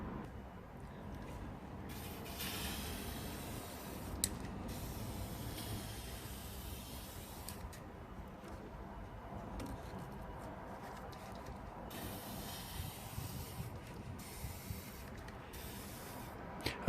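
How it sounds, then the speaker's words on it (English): WD-40 lubricant sprayed from an aerosol can onto an Apache scarifier, several hissing bursts of varying length separated by short pauses, close and fairly quiet, with no talk. "I'll just give it a spray while it's there."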